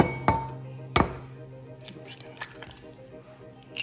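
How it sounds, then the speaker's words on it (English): Eggs cracked against a bowl, giving two sharp, bright clinks about two-thirds of a second apart, then faint clicks and handling noises while people talk nearby. "We're gonna crack our eggs."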